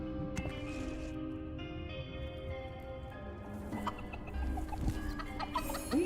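Chickens cluck repeatedly in a Dungeons 4 game scene, several close, clear clucks and squawks over a steady ambient game background, without speech.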